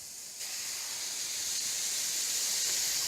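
Chopped carrots hiss in hot oil in a pan, a soft, steady sizzle that swells slightly just after they go in and then holds evenly, with no talking over it.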